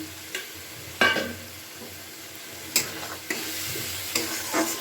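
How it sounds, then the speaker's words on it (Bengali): Fried prawns are tossed and sautéed in a thick spice masala, a steady close sizzle marked by repeated spatula scrapes and clatters against the pan, with no voices. "এবার ভেজে রাখা চিংড়ি মাছটা এতে দিয়ে দিলাম আমি"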